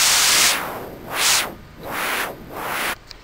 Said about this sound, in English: this is basically how you make white noise on synth